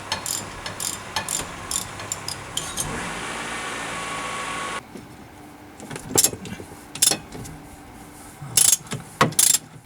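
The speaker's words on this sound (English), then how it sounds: "Then loosen the steering arm nut. Ratchets really make your life easier," A hand ratchet clicks in short rapid bursts while loosening the steering arm nut on a Trabant 601 front axle, close and metallic, with pauses between bursts and a quieter stretch afterward.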